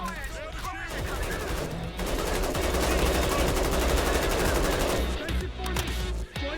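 Rapid automatic gunfire from a weapon in Payday 3, loud and sustained for several seconds with sharp repeated cracks, set among shorter bursts and ambient game noise.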